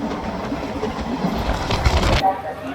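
Passenger train, the Kolkata–Goa Amaravathi Express, rolling steadily with a continuous rumble and rattle heard from inside a carriage, loud and unbroken, ending with a brief higher screech.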